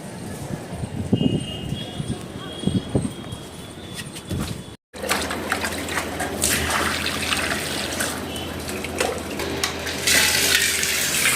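Water sprinkled over trees like rain sounds as a steady, loud spatter and trickle, with a brief cutout midway and the spray growing denser and hissier toward the end, alongside faint background activity.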